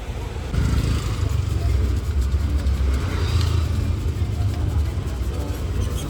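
A new auto rickshaw is driven out, its low engine rumble starting about half a second in and continuing steadily and fairly loud, with background voices mixed in.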